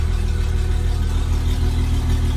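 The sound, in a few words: Pro-Line 22 Sport boat engine running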